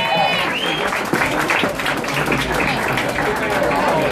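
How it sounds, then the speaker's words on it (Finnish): Audience applause at a finals event fades from dense clapping to thinner scattered claps, with crowd murmur and talk heard over it. "vähän hyytyy taputus"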